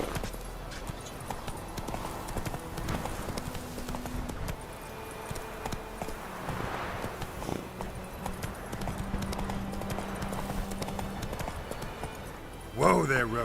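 Roach, a horse in The Witcher 3, gallops with steady clip-clop hoofbeats at a moderate distance, running on under game music and voices, with a brief loud burst near the end.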